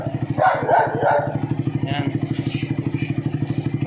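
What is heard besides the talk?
dog barking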